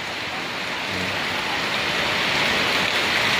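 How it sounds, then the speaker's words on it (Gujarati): Steady, dense rain pours down continuously, a broad hiss that grows slightly louder, with no speech. "હવે વરસાદ પડે છે, વરસાદ ચાલુ છે"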